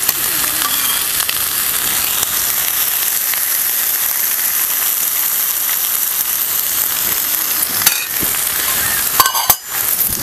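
Ridge gourd pieces fry in a little oil, giving a steady, close sizzle that runs unbroken throughout, with a few sharper scrapes and clatters near the end.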